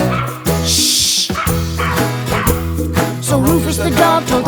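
A cartoon dog barks and yips in a playful nursery-rhyme song, several bright bow-wows and whimpers over bouncy music, loud and up front.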